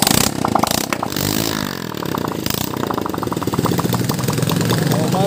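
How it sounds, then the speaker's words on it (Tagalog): A motorcycle engine, just repaired after its wiring burnt, runs close by with a rapid, clattering idle pulse that keeps going steadily, with voices faintly present. "Maandar na ulit yung nasunog na motor. Ayun, maandar na yung nasunog kanina."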